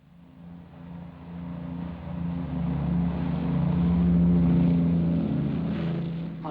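A propeller airliner takes off from the Heathrow runway in 1946, its engines building into a steady, swelling drone that peaks and then eases slightly, heard alone through dull, muffled old film-era sound.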